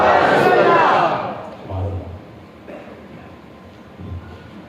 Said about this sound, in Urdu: حضرت قبلہ مرشد کریم کی آمد پر نعرے لگائیے، نعرہ تکبیر، نعرہ رسالت۔